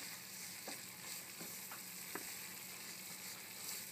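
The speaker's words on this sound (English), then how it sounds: "And just keep stirring." Risotto milanese simmers in a pan while a spoon stirs it, producing a faint, even bubbling hiss broken by a few soft scraping strokes.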